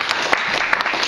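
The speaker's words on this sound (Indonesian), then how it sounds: "tepuk tangan untuk kisah ini" Audience applause at a customer-service training talk, a short dense burst of clapping that swells briefly and carries on steadily.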